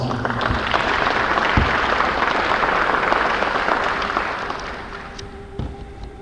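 An audience at a Muscogee Creek Nation press conference applauds for the Chief of Staff, dense steady clapping that holds for several seconds, then gradually thins and fades toward the end.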